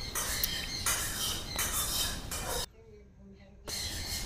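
A hand-tame grey parrot eating soft food gives harsh, close squawks in repeated bursts, with a short quiet gap near the end.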